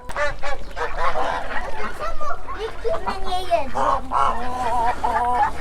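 Ducks quack and honk repeatedly close by, overlapping calls in a busy flock chorus with little pause between them.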